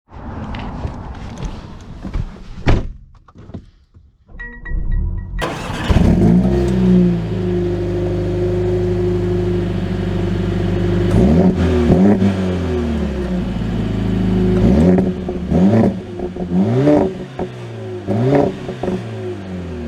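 Mercedes-AMG CLA 45, a 2023 four-cylinder car, starts off after a quiet moment and then accelerates repeatedly, engine revs rising and dropping through gear changes, loud and close with no talk.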